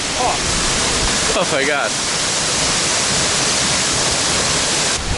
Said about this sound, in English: First waterfall dip for the channel.